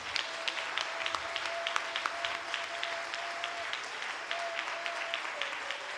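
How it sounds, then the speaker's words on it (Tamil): Church congregation clapping during a Sunday service, a dense, lively burst of many hands with some sharper individual claps standing out, sustained evenly for several seconds with a faint tone underneath. "நல்ல கைத்தட்டணும்."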